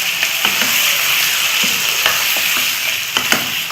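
Meat frying in a pan with ginger, garlic and almond paste for khoya korma, a steady loud sizzle with occasional scrapes and clicks of stirring, no talk.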